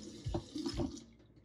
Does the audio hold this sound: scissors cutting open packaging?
no